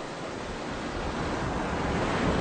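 North Sea water surges beneath the open gates of a Dutch storm surge barrier, a smooth, wide wash of rushing sea that swells slightly louder toward the end, with no voices.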